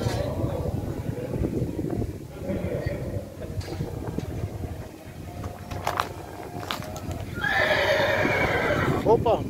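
A Mangalarga Marchador horse at a livestock show whinnies near the end, the loud neigh following hoof clops and steady crowd chatter and talk.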